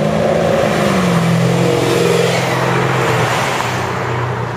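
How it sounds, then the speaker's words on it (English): Flashy cars driving past Marina Mall in Abu Dhabi, with a loud, steady engine drone and rising revs as vehicles pass close by, alone without talk. "And all the flash cars."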